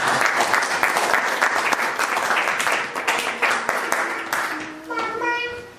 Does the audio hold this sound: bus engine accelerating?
no